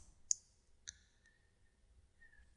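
Computer mouse clicked while working in estimating software: two crisp, close clicks about half a second apart, with a fainter tick after them, in an otherwise quiet room.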